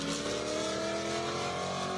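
An atomic orange Corvette race car at an airstrip racing event revs hard, its mid-pitched engine climbing in steady rising sweeps as it shifts through gears, loud and continuous with no talk.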